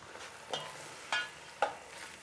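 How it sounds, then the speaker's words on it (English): Pork ribs and their juices sizzle softly in a pan for a rib guazzetto, a quiet continuous hiss broken by three sharp utensil knocks against the pan. "Let's put back the meat. The pork,"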